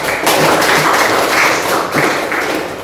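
A class of eleventh-grade students bursts into dense, sustained clapping that fills the room loudly for several seconds.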